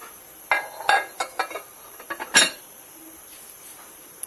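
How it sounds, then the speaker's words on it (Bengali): A lid is set over a dish of moong dal khichuri before microwaving, giving a series of light clinks and clattering taps of kitchenware close by, scattered over a couple of seconds in a quiet room. "এবং একটা ঢাকনা দিয়ে দিব।"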